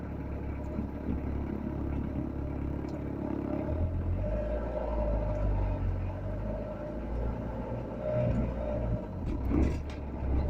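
Talbot Express Highlander MK2 camper van driving after a lower engine and gearbox mount replacement, a steady low engine rumble and road drone heard from inside, with a gear change and a louder surge later on.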